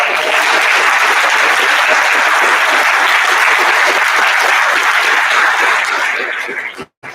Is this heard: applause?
yes